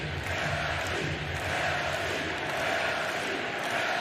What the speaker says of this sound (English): Chanting Yelich.